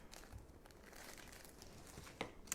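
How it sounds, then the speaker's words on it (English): Plastic bag crinkling close up as a paintbrush is tucked inside, a soft continuous rustle with a couple of sharper crinkles near the end, quiet and without talk. "I've got a plastic bag to put my brush in."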